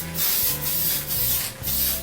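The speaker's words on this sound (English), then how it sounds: "I've got some transparent candy grape. I'm going to see how that sprays out." An aerosol can of transparent candy grape model paint, old and with a faulty nozzle, sprays in several short close hissing bursts separated by brief gaps.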